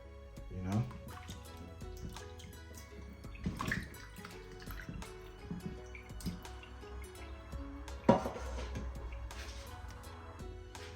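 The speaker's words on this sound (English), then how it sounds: "I try to wash the pigtail more than one time because the pigtail is really salty" Salted pigtail is washed in water in a kitchen while cooking Jamaican stew peas, with running water, splashing and drips close by, and a voice talking at intervals over the washing.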